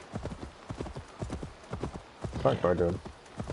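Horse hooves clip-clop in a steady, close rhythm in the video game Assassin's Creed Valhalla, with someone talking over them.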